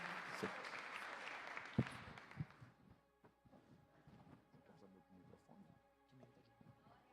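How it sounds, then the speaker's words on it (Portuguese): A crowd claps for a couple of seconds at a church service, then the applause fades out and a voice begins speaking. "Quem crê e pode aplaudir ao Senhor mais uma vez, aplauda ao Senhor, em nome de Jesus."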